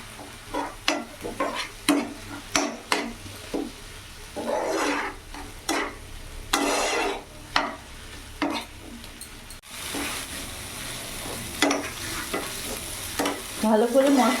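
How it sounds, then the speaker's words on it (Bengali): Spices with chopped green chilli sautéing in a pan for pabda fish kalia, with repeated spoon scrapes and stirring strokes over a steady low sizzle, close and fairly loud. "এবার ভালো করে মশলাগুলো একসাথে মিশিয়ে আমি কষিয়ে নেব।"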